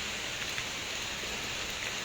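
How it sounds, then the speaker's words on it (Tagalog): Light rain falls as a steady, even hiss of dense patter on surfaces nearby, with no talk. "muulan-ulan na naman."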